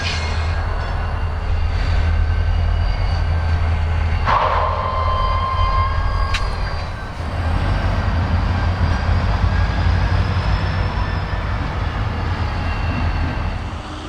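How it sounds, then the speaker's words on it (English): Freight train of mixed freight cars switching at an industrial park with steep spurs: heavy diesel rumble and rolling rail noise, a brief high metallic squeal midway, continuous and close, no talk. "The train had a variety of freight cars from online customers to the east"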